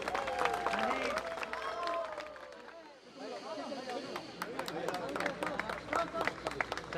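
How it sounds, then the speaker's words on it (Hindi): Audience applause and crowd noise at the inauguration of a beautified garden area with filmmaker Rohit Shetty as chief guest, dense clapping that dips briefly midway then resumes, with scattered talk mixed in. "आज के इस इनॉग्रेशन का तालियों के साथ आगाज"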